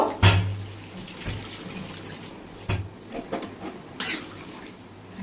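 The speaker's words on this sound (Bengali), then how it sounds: "এখন আমি জল দিয়ে দেব।" Water poured into a pot of mutton curry, heard as a few splashing bursts and light liquid gurgles spread over several seconds, close but fairly quiet, with no talk.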